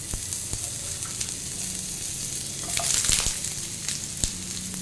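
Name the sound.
frying pointed gourd in mustard oil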